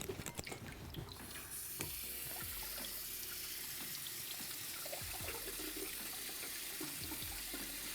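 Chickpea cooking liquid pours in a steady, close splashing stream, with a brief louder gush at the start and faint drips and knocks underneath, no talking.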